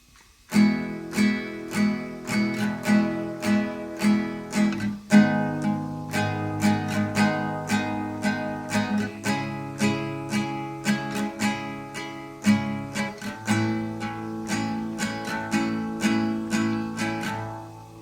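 An acoustic guitar with a capo strums the verse chords of a song in a steady rhythmic pattern, bright and close, with regular downstrokes and chord changes throughout.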